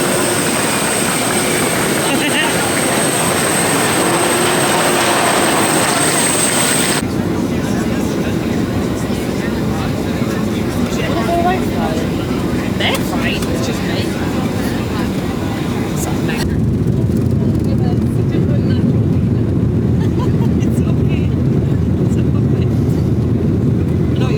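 Aircraft engines drone loudly and steadily on the ground before takeoff, a continuous broadband roar that shifts in character partway through, with voices occasionally mixed in.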